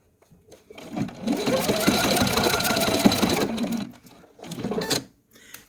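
A sewing machine stitches quilt binding in a close, steady mechanical whir for a few seconds, pauses, then runs again in a shorter burst.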